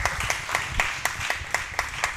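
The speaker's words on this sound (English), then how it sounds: "You can clap." A small audience claps for panelists at a mental health entrepreneurship panel event, a light, sparse patter of separate hand claps that stays fairly quiet and fades over about two seconds.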